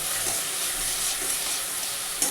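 Spices (cumin, coriander, chilli and turmeric powders) sautéing with fatty fish in a pan give a steady, close sizzle with faint stirring scrapes and a brief clatter near the end, with no voices.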